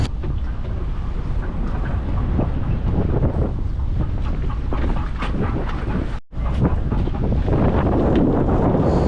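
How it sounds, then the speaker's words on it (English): Steady wind buffets the microphone with a constant rushing roar, broken by one brief dropout, as a fishing boat rocks on big swells off San Diego. "It was a windy trip with some big swells."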